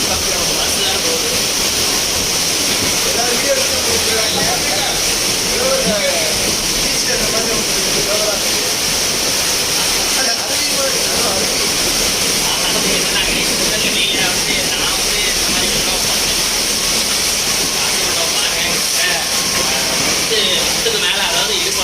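Heavy floodwater rushes and roars steadily through the streets of Nellai, a dense broadband torrent close by with an unbroken, wall-like hiss from start to end.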